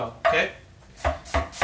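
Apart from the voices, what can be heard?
knife slicing an onion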